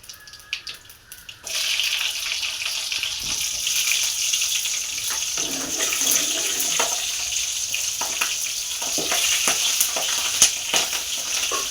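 Red chillies cut in half and frying in hot oil for a stingray fish curry, a steady crackling sizzle that starts after a couple of quiet knocks and carries on with small spatters and clinks.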